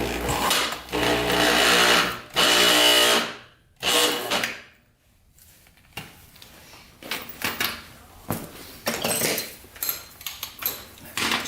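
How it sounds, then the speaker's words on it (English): A power drill tries to spin over a Yamaha Warrior 350 engine with too much compression, giving loud bursts of whirring and straining separated by short pauses, then choppy, uneven grinding. "Let's take the drill and try to spin this thing over."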